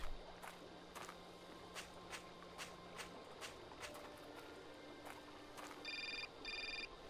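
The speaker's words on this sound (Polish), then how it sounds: "Znowu telefon?" Telephone ringing in the Syberia video game, heard as two short repeated electronic ring bursts near the end, preceded by soft footsteps and faint ambient game sounds.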